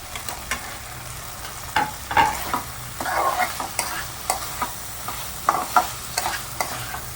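Chopped tomatoes tossed into a hot pan of spices for papad curry, sizzling steadily while a spoon scrapes and clatters in repeated stirring strokes, close up and without speech.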